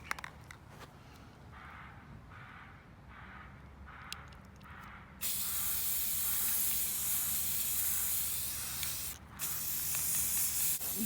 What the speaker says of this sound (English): I'm just going to go ahead and spray paint those all black